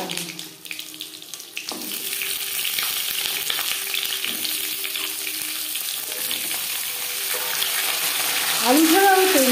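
Potatoes drop into hot mustard oil with cumin and green chillies, setting off a loud, close, hissing sizzle that swells after a quieter start and stays dense and steady throughout.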